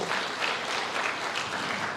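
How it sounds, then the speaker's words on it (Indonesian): A church congregation claps together, a dense, even burst of applause that fills the room for a couple of seconds, loud and close with no voices over it. "Kasih tepuk tangan yang meriah buat Tuhan."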